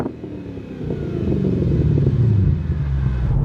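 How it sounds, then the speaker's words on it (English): An Audi S4 V8 breathing through a Fast Intentions exhaust, a deep, steady rumbling drone that swells slightly and holds, close and loud with no talk. "It went from sort of just like an arbitrarily grunty European sort of V8 noise to that more refined, little bit higher pitched"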